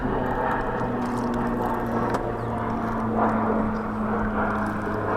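A steady propeller-plane drone hangs in the background, continuous and moderately distant, with a faint whine over the low rumble.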